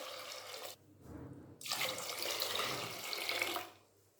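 Water is poured from a cup onto washed grains in a bowl for soaking while making obbattu, a splashing, gurgling stream that pauses briefly and then runs steadily for a few seconds, close and alone.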